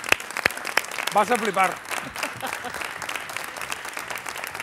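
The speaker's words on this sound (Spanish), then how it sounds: "fuerte el aplauso para él" A television comedy show audience applauds as a comedian comes on, with sharp claps at the start, then someone talking over the thinning applause.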